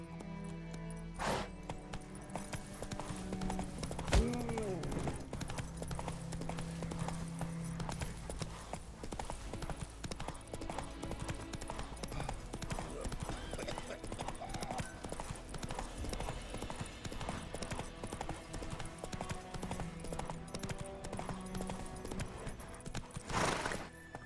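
Steady rhythmic clip-clop of horse hooves galloping in The Witcher 3, continuous and fairly close throughout, with a brief whinny-like sound early on and background game ambience.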